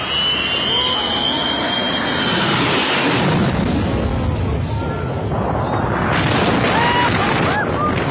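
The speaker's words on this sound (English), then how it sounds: "These people standing too close to a plane dropping water." A low-flying plane drops water near people standing close by, its loud jet-like engine roar and rushing noise continuous throughout with a strong surge midway and crowd voices underneath.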